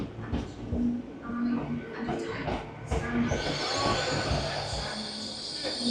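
Two coupled Class 800 trains at a station platform, with a steady rumble and hiss of the units idling and moving alongside, rising slightly toward the end, and faint talk in the background.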